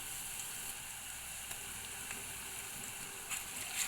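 Ginger paste hits browned onions in a hot pan while frying bitter gourd, producing a steady, close, even sizzle that holds for the whole stretch without any talking.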